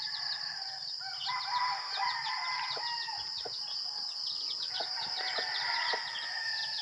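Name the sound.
chickens and rooster crowing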